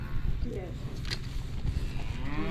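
Cattle mooing at close range on a farm camp, a few drawn-out low calls over steady outdoor background noise.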